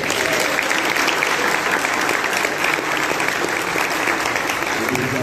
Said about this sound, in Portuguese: Uma salva de palmas para a mesa.